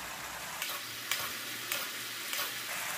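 Braising sauce sizzles steadily in a pan of grilled short rib patties with king oyster mushrooms while it is spooned over the meat. Soft spoon scrapes and taps sound at regular intervals over the constant bubbling hiss.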